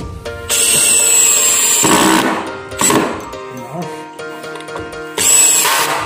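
An INGCO lithium-ion cordless impact drill drives a screw into solid wood. It whines and hammers loudly in long bursts, then in shorter ones, close to the microphone.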